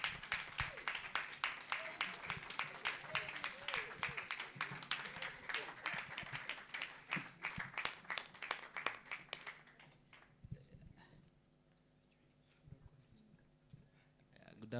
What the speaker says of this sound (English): a round of applause as I introduce the group managing partner, Ronald Bosi.